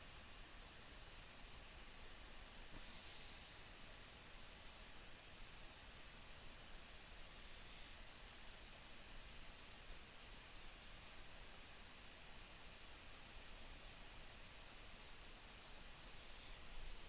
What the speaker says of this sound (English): that white noise is probably my AC